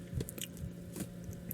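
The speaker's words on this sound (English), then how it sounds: "ASMR crunch for you." Rancheritos chips crunched in quick bites close to the mic, a few sharp crisp snaps followed by softer chewing, with no talking.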